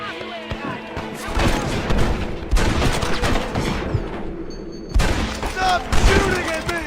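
Gunfire crackles through a Red Dead Redemption battle in bursts of overlapping shots and several loud close reports. Shouting voices are mixed in with the shooting.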